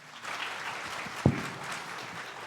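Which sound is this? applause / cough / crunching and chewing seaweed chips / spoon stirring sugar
applause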